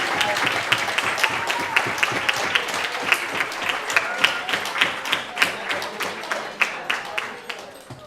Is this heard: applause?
yes